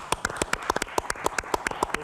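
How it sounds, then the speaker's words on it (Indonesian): A small group claps at a health talk show, with about a dozen sharp, close hand claps in a quick, slightly uneven rhythm over two seconds. "tepuk tangan yuk"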